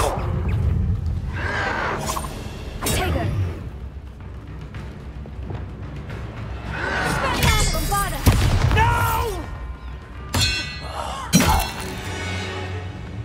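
Bombarda and Confringo spell blasts from Hogwarts Legacy, a string of loud, sharp bursts and crackling impacts spread across the scene, with a voice calling out now and then.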